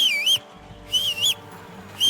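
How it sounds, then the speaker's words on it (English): In Kingdom Come: Deliverance 2, a character whistles a repeated wavering tune, three short clear bursts separated by pauses, close and alone over faint background. "Are you whistling just for fun?"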